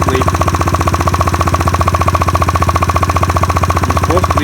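A GY6 scooter engine idles steadily after carburetor tuning, a close, even mechanical putter with a fast regular pulse that runs unbroken and alone throughout.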